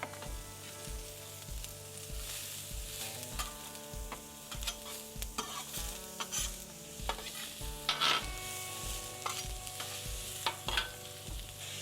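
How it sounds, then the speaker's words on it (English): Onions sizzle in hot avocado oil on a flat griddle, a constant frying hiss punctuated by a steady series of sharp metal spatula scrapes and taps. "This is avocado oil, just has a high smoking point. Whoa, throw down some onions."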